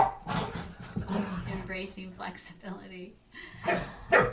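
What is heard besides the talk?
dogs playing and growling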